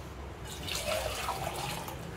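Water poured into a pot while cooking chicken biryani, a soft, steady splashing flow that lasts about two seconds at low volume.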